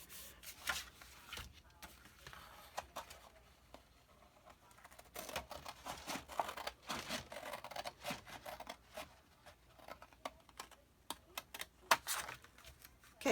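Scissors cutting paper along a score line for a file-folder mini album, a soft, intermittent run of snips and paper rustles, close and faint.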